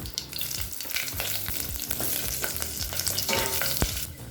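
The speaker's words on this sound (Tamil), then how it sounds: "கொஞ்சம் கருவேப்பிலை கொஞ்சம் பெருங்காயம் ஒரு காஞ்சி மிளகாய் ஒரு பச்சை மிளகாய்" Curry leaves, asafoetida, a dried red chili and a green chili hit hot oil for a pumpkin poriyal, a dense close crackling sizzle with stirring scrapes throughout and no voices.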